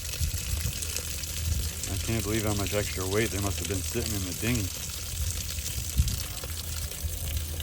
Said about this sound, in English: Holy crap, that's a lot of water.